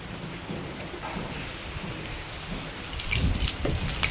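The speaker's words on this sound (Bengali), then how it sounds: "দারুণ বৃষ্টি হচ্ছে" Heavy rain pours steadily on a rainy day, with a dense, even hiss of drops on surfaces that thickens and grows louder near the end.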